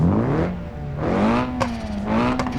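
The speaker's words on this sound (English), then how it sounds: "just listen to the new exhaust and engine sound of this rally variant" Engine and exhaust of a rally-variant car in the BeamNG driving game, revving up and down in clear harmonic sweeps with a low grumble, close and steady with no talk.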